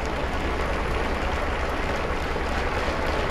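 Applause from members of the Pope's household greeting him, a dense, steady wash of many hands clapping that sounds close and fills the whole moment without any voices breaking through.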